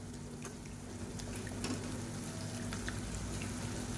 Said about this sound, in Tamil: அந்த காலிஃப்ளவர் மசாலாவை போட்டு பரட்டி விட்டுக்கலாம்